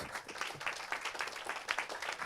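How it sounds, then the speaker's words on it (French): A woman applauds at a talk on advertising sales, giving a soft, continuous patter of clapping that stays faint and fairly even. "Elle applaudit."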